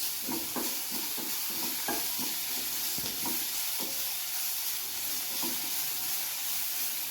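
Ginger garlic paste frying in a pan for a paneer evening snack, a steady sizzle with scattered soft clinks and stirring scrapes throughout, fairly quiet and close.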